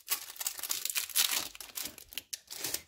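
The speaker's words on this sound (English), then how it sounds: "Maybe we should unwrap the plastic." Plastic packaging is unwrapped close by with repeated crinkling and tearing bursts. The rustling is fairly quiet and irregular, with no talk.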